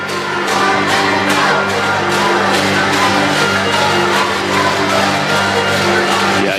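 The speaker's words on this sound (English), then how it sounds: "swimming in front of this crowd here at the OCBC Aquatic Centre" A crowd murmurs at the OCBC Aquatic Centre in Singapore during a televised swimming World Cup race, making a steady, dense wash of chatter and cheering with no single voice standing out.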